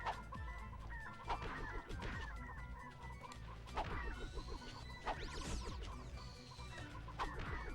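Chickens clucking in the Ratchet & Clank video game, with several birds producing steady overlapping clucks and squawks throughout, alongside game music and occasional thuds and whacks.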